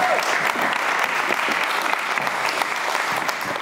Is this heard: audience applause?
yes